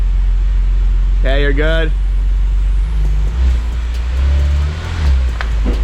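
A car, an Audi S4 rebuilt from a salvage auction wreck, idles low and steady while reversing slowly, with a brief faint squeal and a voice giving directions over the engine.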